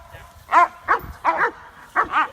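Working trial dogs lined up at a pursuit and defend event bark in several sharp, loud bursts, some single and some doubled, with low rumbling background noise between them.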